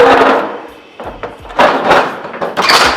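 Sheet metal is bent to 90 degrees on a metal brake, with several loud, close clanks and rattling scrapes as the brake is worked.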